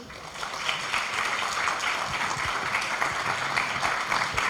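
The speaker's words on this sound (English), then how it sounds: "Let's give them a big applause again." An audience claps after a presentation, dense steady applause that holds at an even level throughout without any talking.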